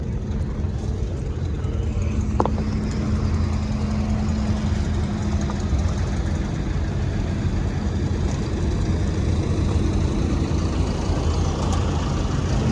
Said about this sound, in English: That was a 4-wheel drive tractor.